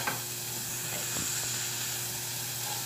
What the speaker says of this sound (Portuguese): Eu pus aqui o bacon, tá? Ó, pra que ele frite primeiro